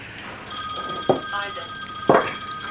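A telephone rings indoors in a repeated electronic tone that starts about half a second in and continues steadily, close and clear, with brief thumps of handling.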